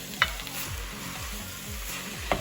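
Ground meat for homemade lasagna stirred and broken up as it browns in a pan, a steady sizzle under repeated low scraping strokes with a couple of sharp utensil clicks against the pan.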